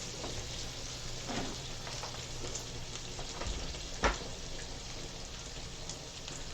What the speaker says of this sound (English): Bacon is rendering.